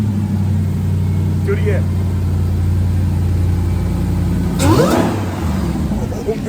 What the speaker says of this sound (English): Hellcat sits super nice in there and ready to freaking rev up and go.